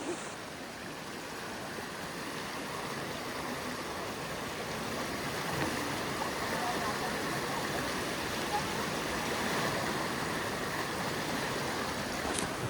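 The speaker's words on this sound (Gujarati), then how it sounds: "માં રહેવાનો જે ખળખળ વહેતો અવાજ છે એ પણ આપને સંભળાવું" The Narmada river flows in a steady broadband rush and gurgle, continuous and fairly close, filling the whole stretch with an even wash of water noise and no speech.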